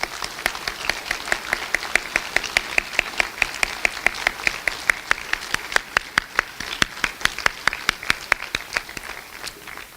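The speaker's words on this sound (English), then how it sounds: "So some applause for our graduates." A convocation audience applauds its graduates with a steady run of crisp, moderately dense hand claps that continue evenly for the full ten seconds.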